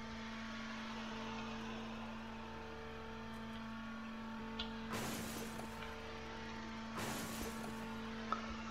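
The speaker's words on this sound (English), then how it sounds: "I love the crashing sound" Two loud crash impacts in a Roblox GTA-style game, each a burst of broadband noise lasting about a second, over a steady droning background hum, with a small sharp click near the end.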